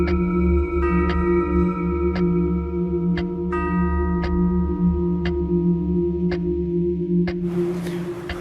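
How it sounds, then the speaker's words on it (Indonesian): Clock ticking at a steady pace of about one tick per second, each tick crisp and bright above a constant low hum and drone, ending in a burst of hiss. "Kenapa jam ini bunyi terus?"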